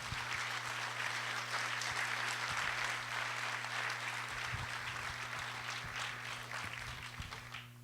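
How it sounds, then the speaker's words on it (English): Audience applause at an awards dinner honoring excellence in journalism, a sustained wash of many hands clapping in a large room, fairly distant and even, fading slightly at the end, with a steady low hum underneath. "Big round of applause for Phil Ponce"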